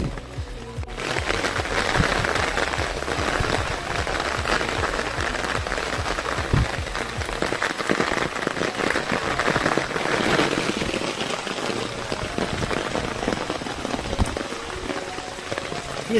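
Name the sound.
rain falling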